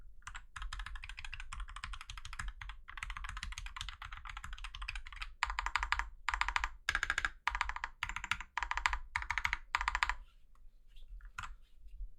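Fast, steady typing on an FL-CMMK MK870 mechanical keyboard with PBT doubleshot keycaps produces close, crisp key clacks, first in a dense run and then in separated bursts, before trailing off into a few isolated presses.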